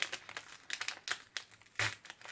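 Paper wrapping on a small package crinkles and tears in short, close bursts with quiet pauses between, the ribbon-tied paper crumpling sharply near the end.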